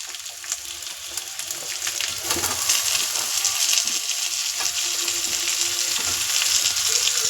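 Pumpkin pieces dropped into a hot pan, frying with a bright, steady sizzle that swells and stays loud and close, with light stirring scrapes.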